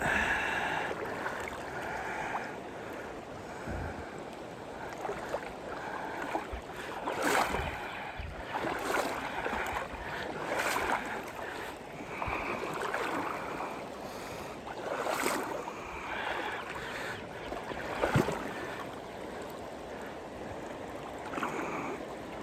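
Clover Fork River in Harlan County, Kentucky, its current splashing and washing around a boat, with irregular sloshes and water surges over a steady background of flow.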